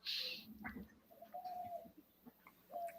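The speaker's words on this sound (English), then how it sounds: "the doves agree." Doves coo softly at a distance, with a few drawn-out tonal calls and a brief bright chirp at the start, over a quiet, faintly hissing outdoor background.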